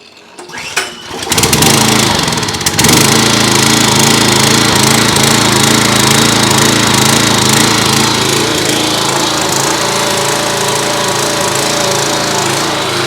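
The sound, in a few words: Simpson pressure washer engine running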